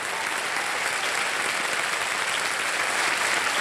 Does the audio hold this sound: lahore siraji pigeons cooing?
no